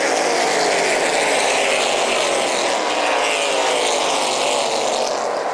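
Race cars roaring around New Paris Speedway during the Summer Sizzler 100, a steady, loud wash of engine noise from several cars at once, sustained without a break.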